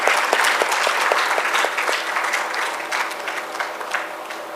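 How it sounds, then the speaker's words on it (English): An audience at a university MoU signing ceremony claps steadily, a dense and even wave of applause that stays loud for the whole few seconds without fading. "A big round of applause from NSTC and Ganpat University."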